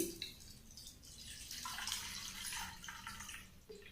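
Water pours onto a cup of fenugreek seeds soaking for a hair treatment, a soft steady splashing and trickling that runs for several seconds, faint and close, with no voices.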